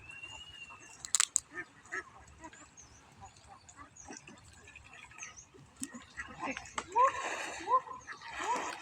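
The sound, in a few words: flock of ducks splashing in a river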